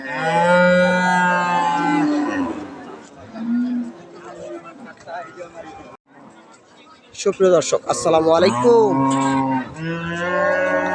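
Friesian dairy and pregnant cows low repeatedly and loudly at the Ambari cattle market, long drawn-out moos rising over the busy crowd while someone speaks to viewers.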